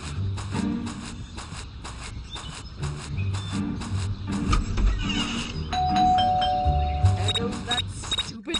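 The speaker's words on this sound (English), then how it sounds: "bell again." A doorbell rings inside the video game Scary Teacher 3D, a clear electronic ding-dong over a busy layer of game sounds and background noise.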